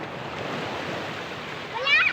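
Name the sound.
sea waves on the shore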